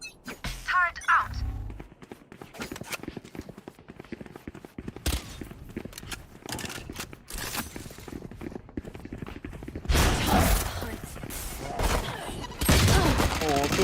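Gunfire and ability sounds from a Valorant match as a deployed turret opens fire, with bursts of shots and sharper crackling spells mixed through steady in-game activity, a voice speaking over parts of it.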